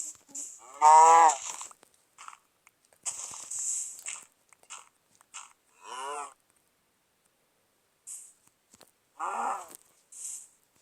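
Several low cow moos with crunching, chewing noises in between, short bursts separated by quiet gaps, sounding like game effects from a village-building game.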